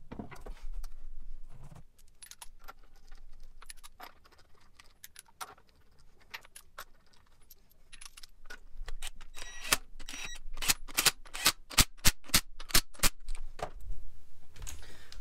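Wheel being refitted and tightened on a Porsche Panamera, with sparse metallic clicks and clinks of the wheel and tools that build into a quick run of sharp ratcheting snaps near the end.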